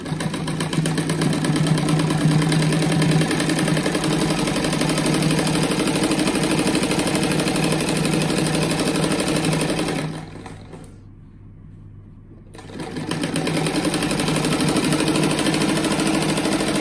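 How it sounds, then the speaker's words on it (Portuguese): A sewing machine stitches a patchwork rug of squares with a fast, steady mechanical whir and rattle, pausing briefly for about two seconds midway before resuming at the same close, even pace. "agora eu vou costurar esse da ponta aqui"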